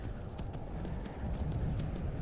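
Horse hooves clop in a quick, even rhythm while riding in Skyrim Special Edition on PC, steady and moderately close over a low background rumble.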